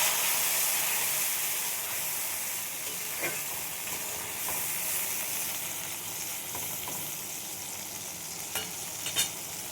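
Tomato, ginger and green chilli spice paste frying in hot oil over a tempering of cumin, a steady close sizzle that runs without pause, with faint stirring clicks scattered through it, while cooking a bottle gourd and snakehead fish dish.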